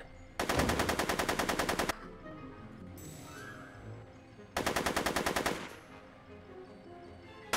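Rapid automatic gunfire from Back to the Future: The Game, Episode 2, comes in two loud sustained bursts of even, rattling shots separated by a few seconds of quieter game ambience.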